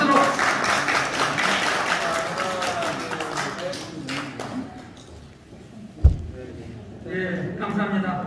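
Applause from an audience at a civic unification event's appointment ceremony: a dense wash of clapping mixed with talk that fades after a few seconds, followed by a single sharp thump.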